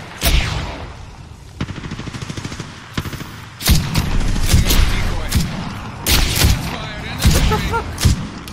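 Rapid bursts of automatic gunfire and heavy grenade blasts from an Apex Legends match, loud and close, coming in several clusters with brief gaps, while a player talks over the fighting.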